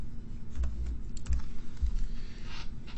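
Fingers type on a computer keyboard with quick, irregular clicks and a few heavier key thumps, close and clear over a low room hum.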